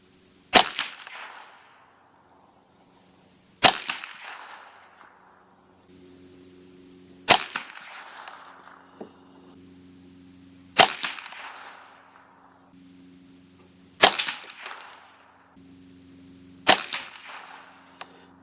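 Six sharp .22LR rifle shots from a custom 10/22 firing Winchester Super X 40 grain ammunition, evenly spaced about three seconds apart, each a crisp crack with a short ringing decay, with a faint steady hum between.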